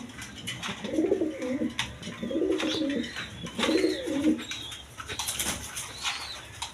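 A pair of Maxi racer pigeons cooing close by in a loft, three rhythmic throaty coo phrases in a row with light rustling and faint background chirps.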